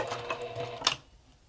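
A sewing machine stitches a bag in a brief, close burst of fast mechanical whirring that stops abruptly, followed by a small click.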